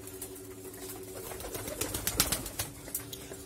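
Pet pigeons cooing in soft, repeated calls amid light chatter and wing rustles, with a steady low hum underneath; the birds sound fairly close and moderately loud.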